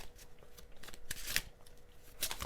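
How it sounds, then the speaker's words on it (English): An oracle card deck is shuffled by hand, giving a steady run of soft papery riffles and flicks with a few sharper snaps, close and alone. "So while I finish shuffling"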